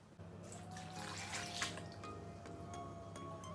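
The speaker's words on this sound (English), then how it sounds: "I'm going to be adding 1 cup of milk." Cup of milk poured into a bowl of cake batter for a milk cake, a steady liquid trickle and splash running continuously at close range, with a kitchen hum underneath and no talking.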